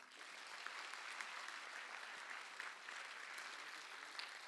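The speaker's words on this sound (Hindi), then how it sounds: "जोर से ताली बजाओ।" Steady audience applause fills a conference show hall at Doon University in Dehradun, a dense, even wash of many hands clapping at moderate level with no talk over it, sustained throughout.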